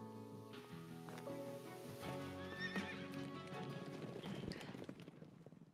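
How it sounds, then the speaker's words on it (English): A horse in the video game NU: Carnival neighs and then clip-clops away, hooves beating a quick galloping rhythm that grows busier, heard clearly against a quiet desert backdrop. "the man lightly spurs his horse, turns it around, and rushes to the other side of town"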